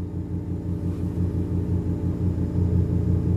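A Lamborghini fitted with an Armytrix exhaust idles with its valves closed, giving a steady low, throbbing rumble that stays even and fairly muted throughout, with no voices.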